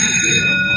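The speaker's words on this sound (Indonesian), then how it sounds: "bel pulang berbunyi" A school bell rings for home time, a steady bright metallic ring held loud and close for a short burst, with no voices.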